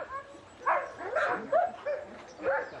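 Shelter dogs kept in pens give short yips, whimpers and soft barks in scattered bursts, fairly faint against quiet background noise.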